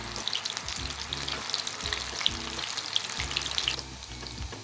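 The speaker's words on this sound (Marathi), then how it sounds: "2 ते 3 मिनटं हे सोयाबीन असे आपल्याला फ्राय करून घ्यायचे आहे." Soybeans coated in masala fry in a pan with a busy, close sizzle and crackle, brief stirring noises and a low underlying rumble throughout.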